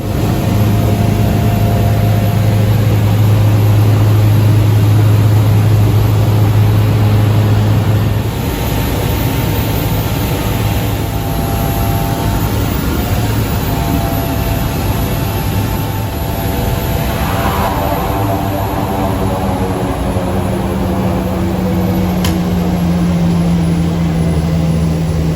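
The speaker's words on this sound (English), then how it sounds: "where we landed right on the water near the falls" A loud, steady propeller-plane drone fills the whole stretch as a float plane lands on water near Brooks Falls, Alaska, its engine pitch shifting and easing as the aircraft settles, with no talking.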